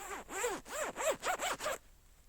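A zipper is pulled in a rapid series of five or six rasping strokes, close and distinct, and then the sound stops abruptly.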